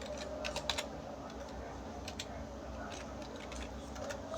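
Someone types a command on a computer keyboard, a quick run of light clicking keystrokes in short bursts over a low room hum, with no speech over it.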